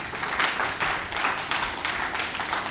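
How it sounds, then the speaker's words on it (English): An audience at a mental health awareness conference claps in a brief, loud burst with a pulsing rhythm of repeated hand strikes, and no voices cut through it. "Please give her a round of applause."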